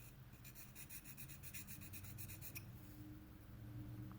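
Repeated rasping strokes of an S35VN steel knife blade drawn across a gritty Spyderco sharpening stone, a steady rhythmic scrape that stops partway, leaving a low room hum.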